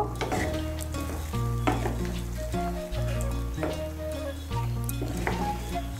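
Potato curry in a pan sizzles steadily as water is stirred in, with a continuous frying hiss and occasional scraping of the spoon against the pan, loud and close with no talk.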